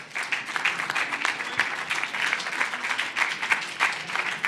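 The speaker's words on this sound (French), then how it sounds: "on peut vraiment vous applaudir tous" A seated audience at an entrepreneurship event applauds business founders, giving brief, dense, steady clapping from many hands, fairly close and continuous throughout.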